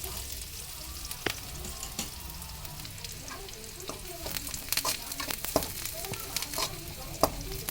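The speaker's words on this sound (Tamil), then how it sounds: "எண்ணெயில் நல்லா வதங்கணும்." Onions sauté in hot oil for semiya upma, crackling and sizzling steadily while a spoon stirs and scrapes the pan in frequent close taps. No talking.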